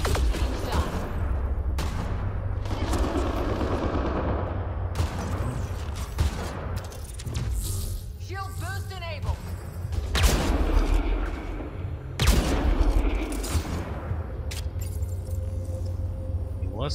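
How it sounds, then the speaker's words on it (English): Turret fire in the video game Mass Effect Andromeda, with repeated bursts of shots and booms scattered through a busy, loud combat mix of mechanical noise. "Something is shooting at me from over there. Must be a turret."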